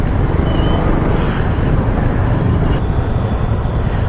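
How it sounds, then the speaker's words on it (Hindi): Dense, steady roar of heavy road traffic in Kathmandu, a continuous wash of engines and rumbling vehicles close by, loud throughout, with no voices. "थामिल रोड से निकलते ही मिल गया अपने को तगड़ा वाला ट्रैफिक भाई, सब दम लंबा लगा हुआ ट्रैफिक"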